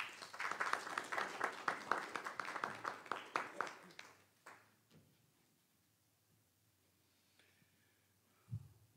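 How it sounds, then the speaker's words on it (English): A church congregation claps in praise as ushers come forward, a dense rattle of many hands for about four seconds that thins into scattered claps and then near-silence, with one faint thump near the end. "Give them a hand clap of praise as they come."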